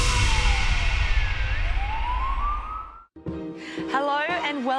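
An ambulance siren wails loudly and continuously with rising and falling pitch sweeps over road rumble, then cuts off abruptly and is followed by speech.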